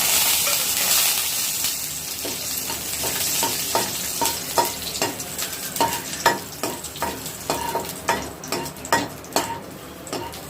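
Raisins sizzling in oil in a pan while making carrot halwa, a soft steady fry with repeated sharp scrapes and clinks of a spoon stirring against the metal, growing more rhythmic toward the end.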